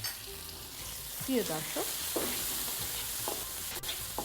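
Chopped onion and green chili fry in a pan with a quiet, steady sizzle while a spoon stirs and scrapes now and then, and a voice speaks briefly.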